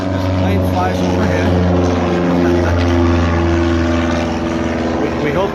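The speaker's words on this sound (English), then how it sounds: "So as the plane flies" A propeller airplane passes overhead at Purdue University Airport, a loud, steady droning engine hum lasting throughout, with someone talking over it.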